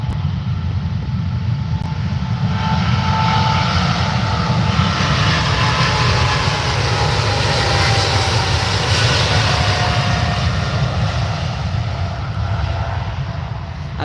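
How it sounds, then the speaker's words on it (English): An Etihad airliner on its takeoff roll at Manchester Airport gives a loud, steady engine roar with a broad rushing rumble that holds strong for the whole stretch, heard from a distance with no talk. "Here we go, and the Etihad's on the roll."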